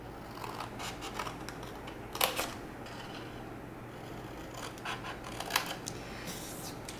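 Scissors cut small squares out of a paper gable-box template for a mini lotion bottle, giving faint, scattered snips and scraping over a steady low hum.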